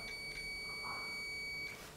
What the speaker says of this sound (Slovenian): jaz drugač uporabljam multimeter, da se ga nastavi na funkcijo piskača